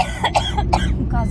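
A person near a bus stand gives a few sharp, close coughs or throat-clearing bursts in quick succession, fairly loud over a low traffic rumble.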